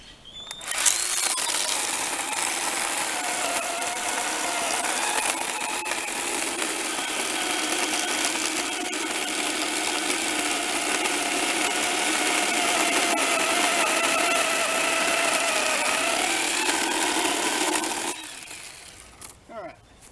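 A Hart 20 volt cordless pruning saw cuts through a stick of wood with a loud, steady buzzing whine for about seventeen seconds, close up, before it winds down and stops.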